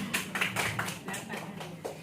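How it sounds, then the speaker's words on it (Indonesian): A small group in a school-teacher setting gives brief applause for a teacher, a short run of soft, distinct claps in a quick uneven rhythm, fairly close and moderately quiet. "tepuk tangan dulu untuk Bu Rizka"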